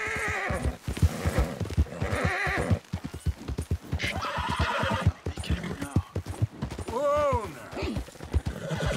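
A horse in the game Red Dead whinnies and its hooves clop in a steady rapid gait, with rising and falling neighs, while someone talks over it.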